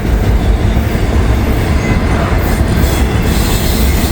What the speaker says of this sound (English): There goes an articulator auto rack.